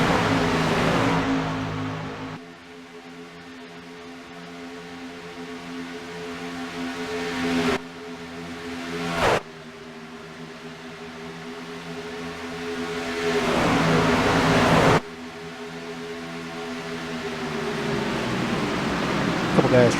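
Race cars circle the oval at Daytona in a 2015 event, their engines forming a steady droning roar with several swells and sudden shifts as the pack passes.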